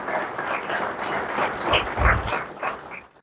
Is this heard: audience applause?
yes